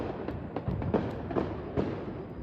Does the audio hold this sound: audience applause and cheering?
no